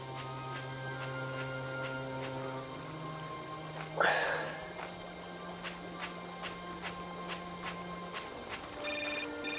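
A telephone rings in the Syberia adventure game, a repeated electronic ringtone at moderate volume over a quiet background of game ambience, with someone talking at times.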